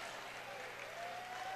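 Crowd at a 2013 boys Division I volleyball championship match, Archbishop Mitty vs Mountain View, roaring and applauding in a gym, a dense sustained wash of cheering with an announcer talking over it.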